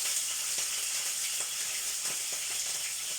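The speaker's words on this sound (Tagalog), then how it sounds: "iprito ko na yung tulingan" Steady, dense hissing and crackling of tulingan (bullet tuna) frying in hot oil, with scattered pops throughout, continuous and close.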